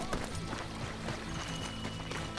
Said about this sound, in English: Mason, I'm borrowing your horse.